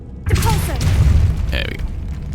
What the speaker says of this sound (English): Let's blow this one open, I guess.